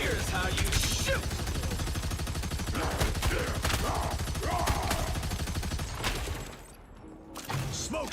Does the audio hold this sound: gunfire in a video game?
yes